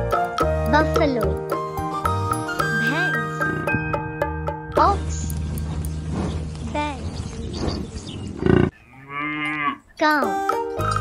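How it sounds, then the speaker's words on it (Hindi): A buffalo gives several loud, drawn-out lowing calls up close, deep and resonant, one after another with short breaks, ending in a couple of shorter, sharper bellows. "बफेलो"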